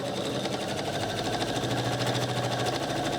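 A sewing machine stitches a washable sanitary pad, a close, loud, steady mechanical whirr with a fast needle rhythm running without pause.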